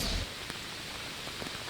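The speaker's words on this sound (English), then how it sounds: "you are seeing the rain and really the downfall from that rain here just really picking up by the minute here" Heavy rain pouring down during a storm over the Carolinas ahead of Helene, a steady broadband hiss with faint scattered drop impacts, continuous and fairly close.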